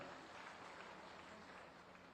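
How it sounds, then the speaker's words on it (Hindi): Steady, dense applause from a large crowd at a government scheme launch event in Srinagar fills the whole stretch without a break. "जोरदार तालियां हर तरफ से हो जाएं।"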